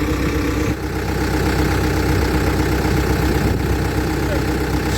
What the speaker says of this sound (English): he'll drive the tractor forward